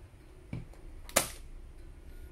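XCORT electric nail gun driving nails: two sharp, separate snapping shots about half a second apart, the second louder, against quiet room tone.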